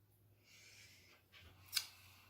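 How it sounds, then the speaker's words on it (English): Large scissors snip quietly at close range, soft swishing strokes leading to one sharp crisp cut near the end, in an otherwise quiet room with a faint low hum. "I'm going to bring in my bigger scissors."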